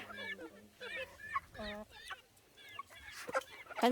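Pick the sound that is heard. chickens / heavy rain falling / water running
chickens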